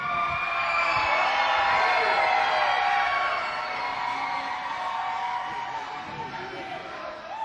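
A small-town crowd cheers and yells at a DCW wrestling show, a loud sustained roar of voices that slowly eases off over several seconds.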